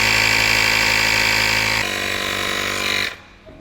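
A portable battery-powered tyre inflator with a power bank pumps air into a bike tyre, a loud, steady motor drone that shifts pitch partway through, then cuts off abruptly.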